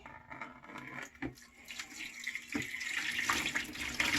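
Wine grape juice, about a quart, pours into a bucket in a quiet, steady splashing stream that builds gradually, with a couple of faint knocks early on.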